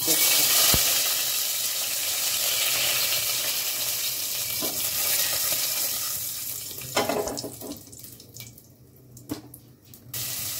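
Whole cardamom, cinnamon, green chilies and dried red chilies fry in oil in a pressure cooker, giving a steady, close hiss and sizzle that grows patchier and quieter toward the end, with a few sharp crackles.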